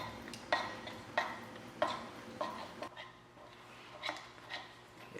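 Flaxseed egg is stirred into eggs in a bowl: a series of light, rhythmic clinks and taps from a utensil against the bowl, quiet and close, with a short pause midway.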